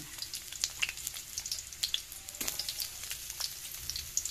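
Onion sizzling as it is sautéed in a pan after garlic, a soft steady crackle of frying with scattered sharp pops and a brief scrape of stirring, heard close.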